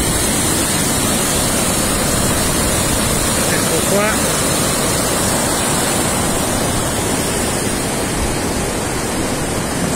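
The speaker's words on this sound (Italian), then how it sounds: "eccolo qua, il fiume nella sua potenza, una massa d'acqua comunque importante che però non desta preoccupazione." The swollen Tanaro river rushes powerfully beneath the Meier bridge, a loud, continuous broadband roar of water filling the scene, with someone speaking briefly over it.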